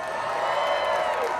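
A comic convention panel crowd cheers and whoops with scattered applause, a brief, lively burst of noise from many people.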